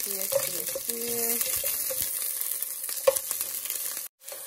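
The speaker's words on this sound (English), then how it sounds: "Right, that's onion. Let's sear it." Onion sears in a pan for Filipino bihon, a close steady sizzle with scraping stir strokes and a few clacks of the utensil, ending in a brief dropout.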